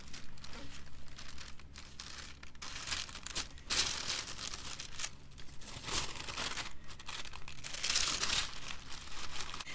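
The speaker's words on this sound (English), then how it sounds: "I'm going to wrap those in this red tissue paper." Red tissue paper crinkles and crumples up close as handmade ears are wrapped, in a continuous run of soft rustling with several sharper crackling bursts.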